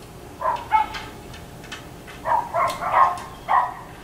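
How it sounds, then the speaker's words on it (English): A neighbor's loud dog barks at a distance: a couple of quick barks, a pause, then a cluster of about four more, moderately faint and outdoors. "It's the neighbor's loud dog."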